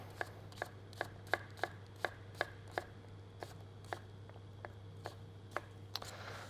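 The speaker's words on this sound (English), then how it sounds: "So just get your cucumber, we're going to cut it on the side into just some nice small pieces." A knife chops cucumber into small pieces on a cutting board in a quiet kitchen, about a dozen crisp, evenly spaced taps that are close but soft, with a low steady hum underneath and no talking.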